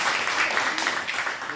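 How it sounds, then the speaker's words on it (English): An audience claps for a speaker at a club talk, a short burst of crowded applause that stays fairly loud and even throughout. "Big up to Peter, give him a clap."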